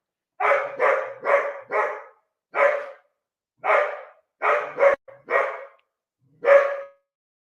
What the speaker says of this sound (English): That is the dog.